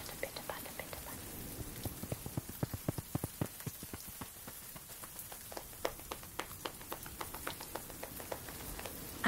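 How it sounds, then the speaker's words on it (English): Steady rain patters on a surface for several seconds, many small drops ticking in an even, close, continuous wash with no voices over it. "We sit up and it begins to rain. Pitter-patter, pitter-patter, pitter-patter"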